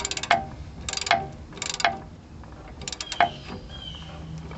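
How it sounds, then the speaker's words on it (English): A ratchet and socket tightens a bolt on a 1981 truck's power steering gear box, giving bursts of rapid clicking with brief pauses in between, close and fairly loud. "we'll get our ratchet and socket and tighten that on down"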